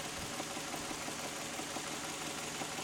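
Toyota 3S-FE engine idling with a steady mechanical knock, a dense continuous rumble with faint repeating taps running the whole time, no voices.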